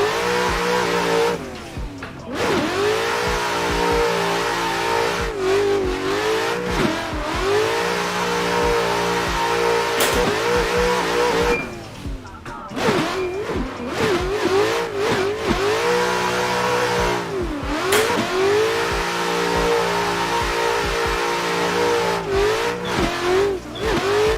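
A VDC-spec Corvette racing in Assetto Corsa, its engine revving hard and repeatedly through upshifts and downshifts, with brief tire squeal between runs of loud, continuous engine drone.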